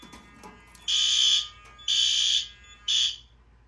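A fire alarm sounds three times in a system test, each loud electronic blast lasting about half a second, separated by short gaps, with no one talking.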